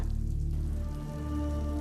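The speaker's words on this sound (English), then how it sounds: "It's raining in big wet drops." Heavy rain falls in big wet drops, a steady close patter with a low rumbling undertone and no voices.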